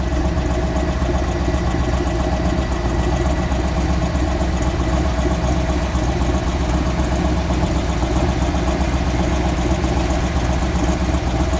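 A 1969 Dodge Daytona Charger with a 426 Hemi V8 idling nearby, a loud, deep and steady rumble with constant low vibration and no change in pitch throughout, with no voices.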